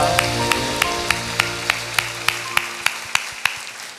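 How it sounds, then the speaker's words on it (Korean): A church congregation claps together, a steady series of regular sharp claps about every third of a second, moderately near and unbroken, over a faint sustained organ-like tone. "하나님께 영광의 박수 올려드리겠습니다"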